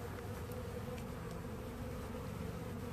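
Dense, steady buzzing of a honeybee swarm around the hive frames on a blustery day, close and continuous with no gaps.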